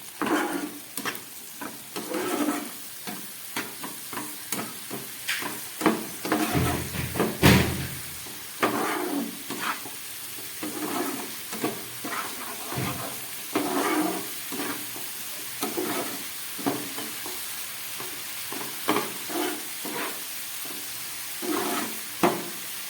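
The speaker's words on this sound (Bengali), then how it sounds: "এবার মশলা দিয়ে খুব ভালো করে এগুলোকে কষাবো।" Pomfret and kagji fish cook with spices and a little water in a pan, giving a soft sizzle under repeated scraping stir strokes and occasional clatter, fairly quiet and close.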